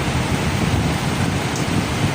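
Rain falls outdoors in gusty wind, making a dense, unbroken hiss that stays loud and even throughout, with no voices.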